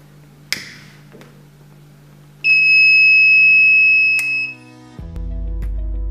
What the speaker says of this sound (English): If it senses fire, these two buzzers and LED will light.